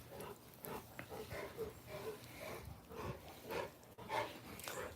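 Big dogs play-fighting, with a steady run of low growls, snorts and scuffling yelps at close range, rising in a few louder bursts throughout.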